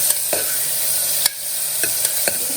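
Chopped small onions and tomatoes sautéing in a hot pan, a steady close sizzle with several sharp scrapes and clicks of a spoon stirring against the metal, no voices.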